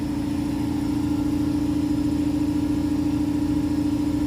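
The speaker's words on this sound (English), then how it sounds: "now we'll put the AC machine is on already, I guess, and hit the compressor on that" An air conditioner compressor powered by an SRNE 10 kW inverter hums steadily and loudly, a constant even drone with a strong tonal whine and no break throughout.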